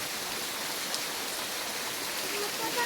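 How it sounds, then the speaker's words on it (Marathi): Heavy, continuous rain falling on a Konkan village makes a steady, even hiss that holds at the same level throughout, with no other sound standing out. "इकडे बघा पाऊस कंटिन्यू चालू आहे"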